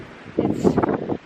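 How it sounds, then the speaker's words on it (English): Gusty wind buffets a microphone outdoors in a short, rumbling surge that rises and falls for about a second. "Oh, it is windy."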